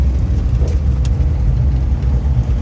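Inside a car on a road trip near Boston, a steady low rumble of engine and road noise carries on without a break, with a few faint clicks on top.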